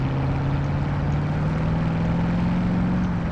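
Helicopter in Call of Duty Modern Warfare, a steady close rotor and turbine drone with a rhythmic thumping chop, loud and unbroken throughout.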